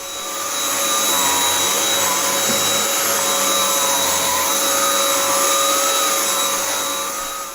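A BLACK+DECKER Power Series Pro Pet cordless stick vacuum runs steadily and loudly at close range, a constant motor whine with airflow hiss that holds level throughout, with no talking.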